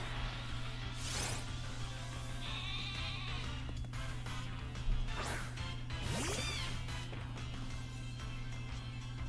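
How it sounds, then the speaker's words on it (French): Sheep Pokémon in Pokémon Shield gives short synthesized bleats over a steady game-music bed, with several swooping sweeps and impact-like hits between them. "Un mouton."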